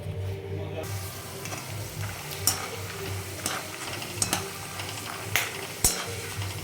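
Peanuts and dal frying in a little oil for homemade chivda, a steady soft sizzle with repeated scraping clicks from stirring, close and moderately loud, with no talk.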